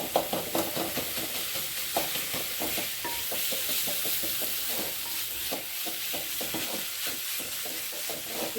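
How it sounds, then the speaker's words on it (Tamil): Tomatoes and cabbage sautéing in a pan for a bun burger give a continuous sizzle with rhythmic, repeated scraping stir strokes, fairly close. "தக்காளி கோசெல்லாம் வதங்கிட்டோங்க"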